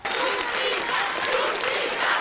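Applause from mourners at a cemetery as a teenager's body arrives for burial, a steady wash of many hands clapping that fills the whole moment without pause, with faint voices mixed into the crowd.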